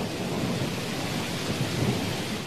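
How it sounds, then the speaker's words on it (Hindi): Torrential rain in a thunderstorm pours as dense, steady broadband hiss with a low rumbling undertone, loud and continuous across the whole stretch. "मूसलाधार बारिश होने लगी"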